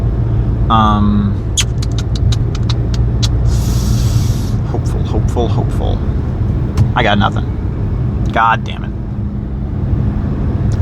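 Steady low road rumble from inside a moving car, with someone talking over it at intervals and a few passing vehicle sounds.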